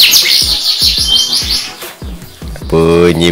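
A pet canary sings close by, a bright warbling song of rapid high chirps and trills running through most of the stretch, with low-pitched speech-like voices underneath and a denser rolling trill near the end.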